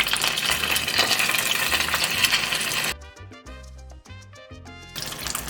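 Vegetable spring rolls fry in oil with a dense, loud sizzle, then go briefly quieter as they are turned with clinking utensils, the sizzle resuming afterward.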